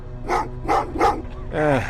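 Dogs bark in the video game Terminator Resistance: three quick barks in a row, then a longer whining yelp, fairly close and loud over a low hum.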